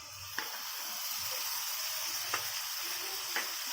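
Chopped onion fries with ginger garlic paste for chicken curry, a steady close sizzle with a few soft scraping stirs of the spoon in the pan.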